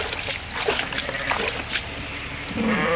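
Light splashing and dribbling water as water is scooped out of a livestock drinker in a sheep barn, close by, with small irregular sloshes and scoops over a faint background hiss.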